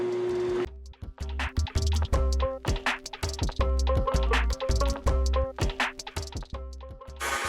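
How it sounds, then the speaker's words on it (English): Wood lathe turning a goblet while a deep fluted gouge cuts the spinning wood, giving a busy, rapid series of sharp ticking and scraping bursts with a steady low hum underneath, close and fairly loud. "So I'm going to use my deep fluted gouge and see if I can clean that up just a little bit."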